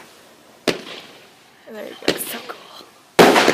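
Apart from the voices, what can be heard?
professional fireworks going off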